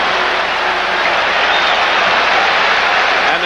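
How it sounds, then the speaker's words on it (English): A basketball arena crowd in Philadelphia cheers during the 1982 finals game between the Sixers and Lakers, a loud, dense, unbroken roar of cheering and clapping. "And the crowd is churned up here."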